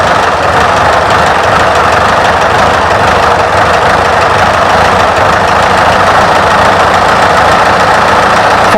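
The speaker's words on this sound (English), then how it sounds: "You have to pressurise the fuel tank with what looks like a bicycle pump stuck to the side of the scuttle to start this 1926 Bugatti Brescia." A 1926 Bugatti Brescia's 1.3-litre four-cylinder, 16-valve engine runs loud and close, a steady rough idle with a dense knocking pulse throughout and no voices.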